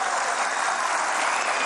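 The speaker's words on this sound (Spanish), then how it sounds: "Entre aplausos y arengas de los legisladores presentes" Legislators in a chamber break into dense applause mixed with cheering, a steady wash of clapping throughout the short moment.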